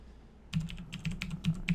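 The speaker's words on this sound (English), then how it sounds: "Let's type in a password." A password being typed on a computer keyboard while configuring a Cisco SG300 small business switch: a short run of about eight quick, close keystroke clicks after a brief quiet moment, with no talking.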